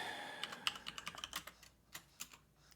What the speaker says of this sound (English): I think Coco's head just hit the keyboard.